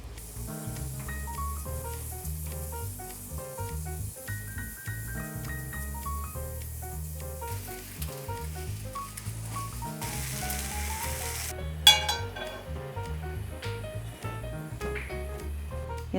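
Tempeh and onion frying in a pan, giving a steady close sizzle and hiss that runs under louder background music with no talking.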